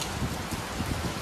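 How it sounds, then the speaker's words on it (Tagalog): Heavy rain falls steadily outdoors at a condominium construction site, a dense, even hiss with soft patter, moderately quiet and continuous with no voices. "Medyo malakas ang ulan."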